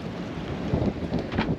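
Wind gusting steadily across a sailboat at sea, a continuous broadband rush with a few stronger surges and microphone buffeting, no voices.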